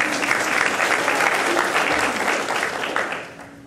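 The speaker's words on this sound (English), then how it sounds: "Let us all applaud you." An audience at a back-to-school keynote applauds an educator, a dense steady burst of clapping from many hands that swells and then tapers off toward the end.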